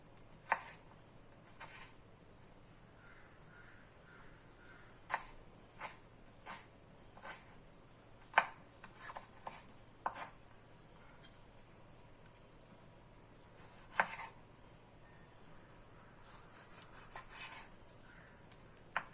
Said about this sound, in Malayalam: മല്ലിയില, കറിവേപ്പില രണ്ടും കൂടെ ഞാൻ ഒന്നിച്ചങ്ങ് അരിഞ്ഞു